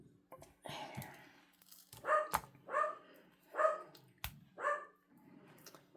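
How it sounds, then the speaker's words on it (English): Dog named PJ barking indoors in a craft room, four sharp, evenly spaced barks at moderate distance, preceded by softer rustling and whines. "I have no idea what PJ's barking at"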